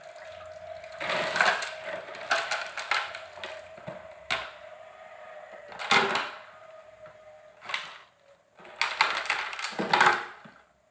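Ice cubes clatter and knock as they are packed around glasses of solution A and B in a container for a reaction-rate experiment, coming in several bursts of close clinking with short pauses between them.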